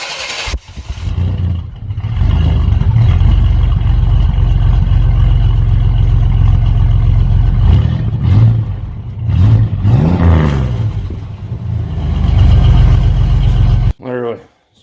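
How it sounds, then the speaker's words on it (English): A four-door car with a newly installed cat-back exhaust idles close by with a deep, steady rumble, rising and dipping through a few blips of revving, then cuts off abruptly near the end. "Now the question is, how the fuck does it sound?"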